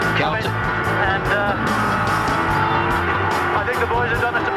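A touring race car at the 1990 Bathurst race roars loudly and steadily into the final corner, engine note rising and falling with a hint of tire squeal, under continuous talk from commentators.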